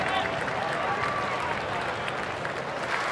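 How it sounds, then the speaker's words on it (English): Cricket crowd at a Test match between Australia and Pakistan applauding steadily after a brilliant innings, a broad continuous wash of clapping and crowd noise from a large stadium. "And crowd acknowledges a brilliant innings."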